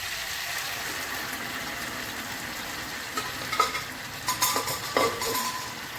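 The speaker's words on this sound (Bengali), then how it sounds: "এবার আমি সেদ্ধ করা মুগ ডালটা দিয়ে দিচ্ছি।" Boiled mung dal poured into a pan of sautéed cauliflower, giving a steady broad sizzle with a few sharper clinks and splashes near the end; no talking.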